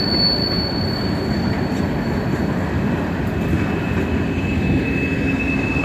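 A departing freight train rolls past in a loud, steady rumble, its wheels squealing in sustained high tones throughout, with no talking.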